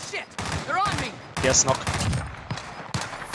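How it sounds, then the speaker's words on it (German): Gunfire in the battle-royale shooter Call of Duty: Warzone, with several sharp bursts and single shots spread across the stretch, mixed with game effects and someone talking over them. "Ich habe noch von irgendwo anders Schüsse bekommen gerade."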